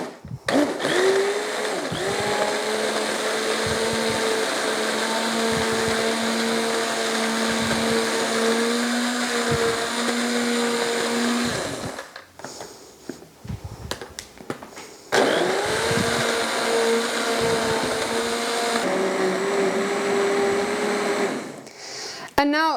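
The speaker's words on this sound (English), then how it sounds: "so I blend it a little bit more just to get all those chunks of carrots nicely blended up" A blender purees hot carrot soup into a smooth blend, running loud and steady in two long whirring bursts with a short pause between them.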